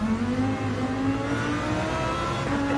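A Lamborghini engine revs hard toward the red line on the Laguna Seca track, a loud, steady droning roar with a rising pitch that stays close and continuous, with no talking.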